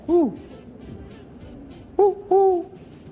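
A person imitates an owl hoot three times: one drawn-out call, then a pause, then two quick hoots close together.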